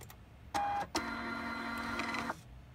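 A Zebra ZP450 label printer feeding and printing a test page: a brief beep and a short mechanical burst, then a sustained motor whir lasting over a second before it stops, close and clear with no talking.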